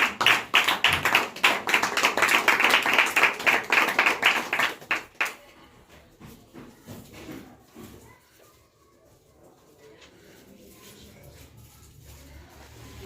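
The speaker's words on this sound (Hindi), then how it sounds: "आपकी भरपूर तालियों में वेलकम करते हैं" A congregation at a Christian gathering gives loud, dense applause to welcome someone speaker; the clapping runs for about five seconds, then fades into a quiet room with scattered small sounds.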